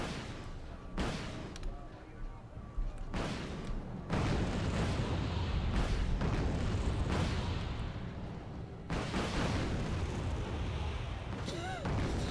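Long-range ATGM fire and explosions in the Wargame AirLand Battle video game, a steady roar of blasts and launches that swells loud from about four seconds in, with distinct booms punctuating it.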